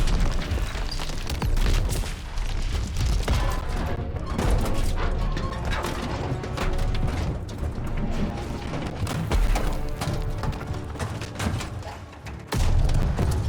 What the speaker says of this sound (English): Daniels and Zussman give chase in a Kubelwagen, but crash into the train, becoming trapped beneath it until they narrowly escape before it derails in a massive explosion.